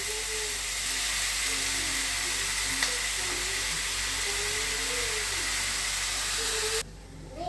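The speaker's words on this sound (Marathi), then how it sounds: "आता मी हे दुधी याच्यात भाजून घेणार आहे. परतणार आहे म्हणजे थोडक्यात चांगला." Bottle gourd sautéing in ghee in a pan gives a steady, even sizzling hiss that carries on without break for several seconds, then drops away abruptly near the end.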